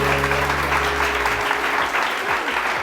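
A studio audience on a TV morning show breaks into sustained clapping over a fading low musical hum, the applause staying dense and even from start to finish.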